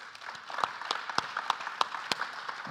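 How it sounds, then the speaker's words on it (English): An audience at a panel event applauds its panelists, with a steady, dense burst of clapping in which sharper individual claps stand out, filling the whole moment at moderate loudness. "I hope you can join me in an applause for our wonderful panelists"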